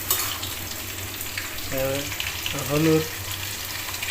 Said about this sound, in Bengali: তেল ছেড়ে দিছি, এখন আমরা পেঁয়াজ মরিচ দিলাম ছেড়ে।